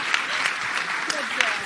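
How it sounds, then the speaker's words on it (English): Audience applause at a labor organizing event on strikes, a steady broadband clapping wash sustained throughout with a few sharper individual claps standing out, fairly close and continuous. "give them a round of applause anyway"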